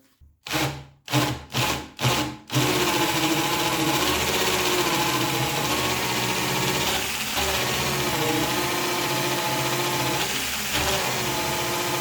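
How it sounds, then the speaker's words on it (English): A few short power-tool bursts, then a drill with a Parkside right-angle attachment and 6 millimeter bit whirs steadily and loudly for a long stretch as it bores through material. "And very easy, you can drill."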